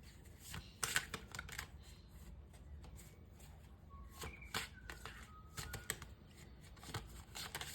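Tarot cards riffle and snap as they are shuffled and drawn for a reading, a steady run of soft papery flicks with sharper card slaps, close and alone with no talk.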